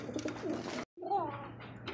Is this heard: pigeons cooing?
yes